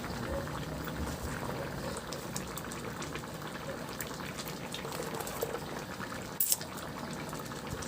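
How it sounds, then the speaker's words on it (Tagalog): Mung bean soup with fish bubbling steadily in a pot, a continuous soft simmering hiss and burble at close range, with a brief sharp clink near the end. "Antayin lang natin yan kumulo"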